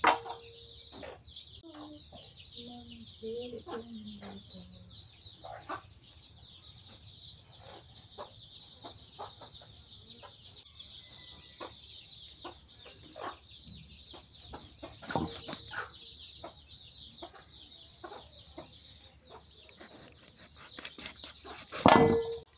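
Free-roaming chickens cluck softly and intermittently at a moderate distance. Scattered knocks and faint background noise run underneath, and a louder burst comes near the end.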